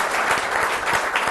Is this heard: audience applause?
yes